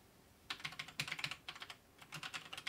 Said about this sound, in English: Guess while I'm typing.